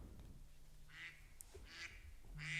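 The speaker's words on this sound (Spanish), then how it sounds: "Uy, se acercan los patos." Several ducks quack in short bursts, drawing closer, with the calls growing louder toward the end over low background rumble.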